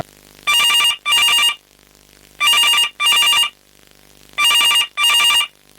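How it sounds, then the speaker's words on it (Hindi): A telephone rings in a stage drama, with three pairs of loud, close double rings separated by short pauses. "असिस्टेंट डायरेक्टर का फोन"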